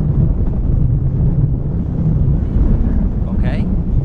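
Loud, low buffeting wind rumbles continuously across the microphone outdoors in northern Norway, a heavy roaring blast with no pauses.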